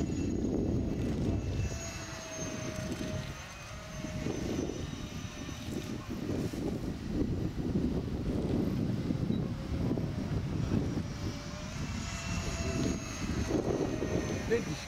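An RC Valkyrie VF-1J electric ducted-fan model jet whines steadily overhead while flying and rolling, with a thin high tone rising and falling over gusty wind and outdoor rumble, moderately distant.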